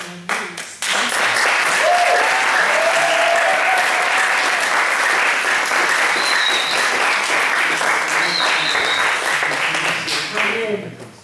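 A church congregation claps and cheers loudly and without a break for several seconds, with whoops and voices mixed into the dense applause.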